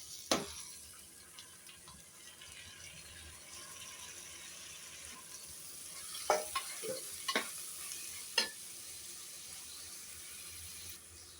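Onions, tomatoes, green chillies and curry leaves frying in oil for an egg curry, a soft continuous sizzle with a few sharp stirring clinks and scrapes of the spoon against the pan, no voices.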